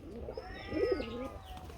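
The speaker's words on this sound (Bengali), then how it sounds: "এই দেখেন কবুতর" A Gorra pigeon gives a soft, close coo with a rising and falling throaty tone, faint against the quiet room.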